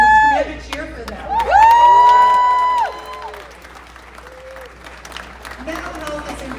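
A crowd at an outdoor health walk event in New York City cheers for young people, a short swell of applause and whoops with a sustained shout peaking early, then fading under ambient chatter.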